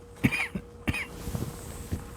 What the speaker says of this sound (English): That wasn't a cough. That was me clearing my throat.